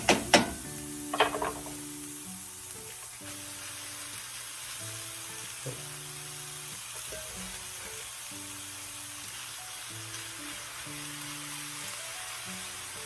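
Roughly chopped, rinsed spinach sautéing in a pan gives a steady, even sizzle throughout, with a few utensil clinks near the start and faint rhythmic mechanical ticking underneath; no one speaks.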